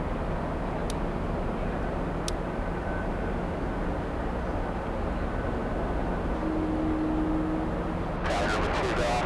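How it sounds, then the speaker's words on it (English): A Lufthansa Airbus A380 airliner at Boston Logan rumbles in the distance, a steady broad low roar that continues unbroken, with brief clicks and a short tone near the end. "That is definitely an A380."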